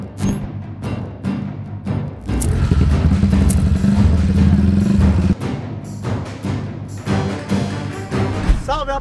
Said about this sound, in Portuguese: Hoje, primeira partida e primeiro rolê da moto